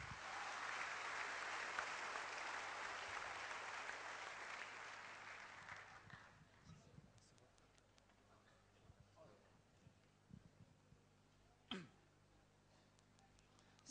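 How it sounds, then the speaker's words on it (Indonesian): An audience at an Indonesian business presentation applauds for about six seconds, then the clapping dies away into a quiet room with scattered small noises. "Beri tepuk tangan Anda."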